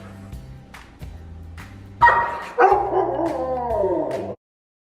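A pet dog howls and yips in a loud, drawn-out run of sounds, short whimpers giving way to two strong rising howls that trail off together, close to the listener and with no talk over them.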